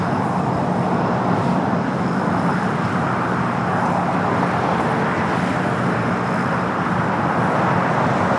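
A United Boeing 737-900ER jet departing LAX, a loud, steady broadband engine roar that stays constant and close throughout, with no voices.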